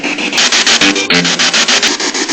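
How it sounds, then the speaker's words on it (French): A spirit box device, run during a paranormal investigation in an abandoned wine-growing house, gives off loud bursts of harsh white noise, pulsing in rapid, regular chunks with no talking. "C'est un appareil qui fait du bruit blanc."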